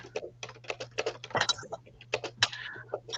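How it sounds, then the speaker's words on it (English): Loud computer keyboard typing, close by, with rapid uneven bursts of sharp key clicks and a faint steady hum underneath. "Can you hear me type? My typewriter, my keyboard is so loud."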